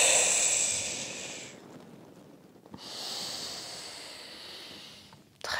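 A person exhales audibly during a beginner Pilates exercise, producing a breathy hiss close to the listener that fades into a quiet pause before a second long, steady breath out.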